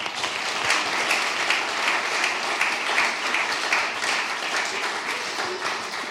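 A French ceremony audience applauds loudly for the author Mark Woltenhauer at a book prize event. Dense, sustained crowd clapping holds at an even, full level throughout without pause.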